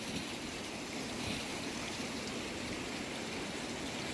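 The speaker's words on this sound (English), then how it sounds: "And we have got a waterfall number 5." A waterfall on the Rupin Pass trek roars as a steady, loud, unbroken wash of rushing water that fills the whole stretch without pause.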